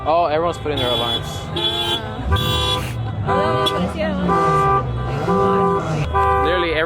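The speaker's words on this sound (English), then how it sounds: "Everyone's putting their alarms in." Overlapping car alarms at a Halloween car meet cycle through loud repeated beeps, honks and whooping warbles close by, while people chatter underneath.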